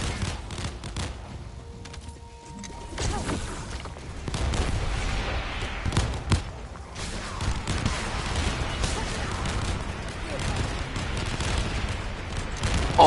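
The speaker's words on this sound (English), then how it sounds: "where's that explosion coming from?" Explosions and gunfire roar through a battle in the video game The First Descendant, with heavy booms and rapid crackling shots building into a loud, continuous barrage.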